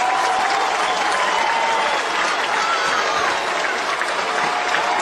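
A college baseball crowd of about 5,400 cheers and applauds at the stadium as a player kicks dirt over home plate, a dense, sustained roar of claps and shouts throughout.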